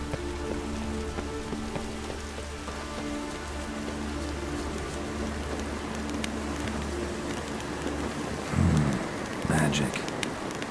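Rain falls steadily in The Witcher 3, a soft, even hiss of drops on surfaces that runs throughout, with low rumbling layers beneath and a couple of brief louder thumps near the end.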